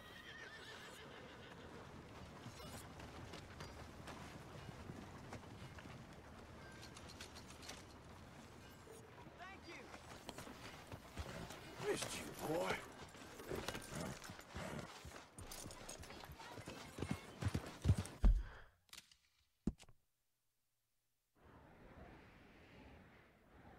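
A horse in Red Dead Redemption 2 moves at a gallop with quick rhythmic hoofbeats and creaking tack under game ambience. A whinny rises partway through, then the sound drops to near silence before a faint return.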